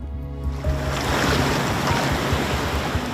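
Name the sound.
ocean waves at Cable Beach, Broome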